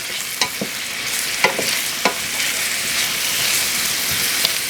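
Curry cabbage with yams and carrots sizzling and frying in a pan with olive oil, a steady hiss broken by a few sharp stirring clatters near the start.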